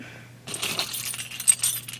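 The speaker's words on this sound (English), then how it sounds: "Keys." Keys jangling close up, a brief bright metallic clinking burst that starts abruptly after a quiet moment and rattles for over a second.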